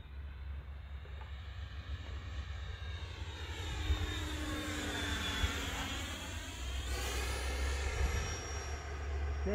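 Viper 8S RC model airplane flies in to land, its electric motor whining steadily with a rising and falling pitch as it passes overhead, with a constant low rumble of wind underneath throughout.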